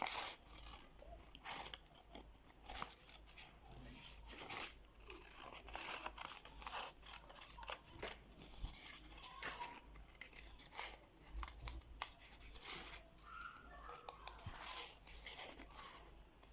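Scissors snipping repeatedly while trimming a leather children's sandal pattern, a quick irregular run of small crisp cuts and rustles, close but faint, with no voices.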